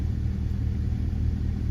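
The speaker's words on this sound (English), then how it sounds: "the truck has been idling for probably 5 minutes now" A Chevrolet Silverado with a 5.3 V8 idles while suffering from low oil pressure, a steady deep engine rumble close by with an even low throb and no revving.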